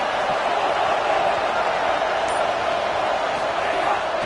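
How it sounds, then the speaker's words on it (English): Crowd noise fills a college football stadium at a Miami vs Ohio State game, a dense, steady roar holding at the same loud level throughout with no distinct breaks. "This crowd ready to make its presence known."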